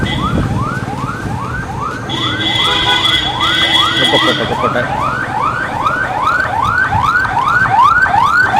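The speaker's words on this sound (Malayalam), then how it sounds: "ആംബുലൻസ് വരുന്നുണ്ട്" An ambulance siren wails loud and close on a road near the Thuravoor Narasimha temple in Alappuzha, Kerala, sweeping up in a fast repeating cycle while another tone briefly overlaps, with a person speaking briefly over it.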